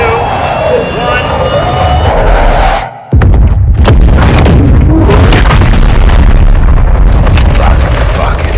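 An air strike in Call of Duty Modern Warfare 2 hits with a loud, sustained roar of jet engines and heavy booming blasts. A short dip is followed by a continuous rumbling wash of explosions and debris, with no talk.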